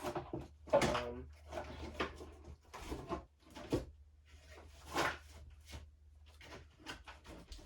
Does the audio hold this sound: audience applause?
no